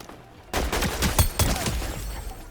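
Rapid weapon gunfire in the video game Fortnite, a dense burst of repeated shots starting abruptly and continuing for a couple of seconds, fairly close and moderately loud with no voice over it.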